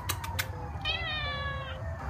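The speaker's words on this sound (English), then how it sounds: "I ended up using one of the neighborhood stray cats." A neighborhood stray cat lets out one long, drawn-out meow at close range, preceded by a few light taps, with no talking.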